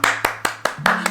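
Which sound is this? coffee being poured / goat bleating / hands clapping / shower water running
hands clapping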